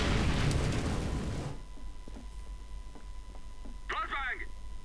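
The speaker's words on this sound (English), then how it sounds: "Flashbang!" A flashbang grenade goes off in Counter-Strike: Global Offensive with a loud, broad burst that fades into a steady high ringing tone, scattered soft thuds, and a short voice near the end.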